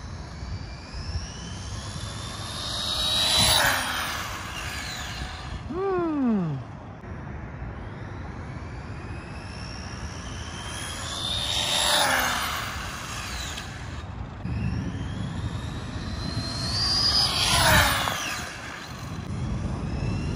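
A tuned Arrma Typhon TLR radio-controlled car runs at partial throttle, about 70 percent, making three loud high-pitched motor whines that sweep past and fade, with steady background noise in between.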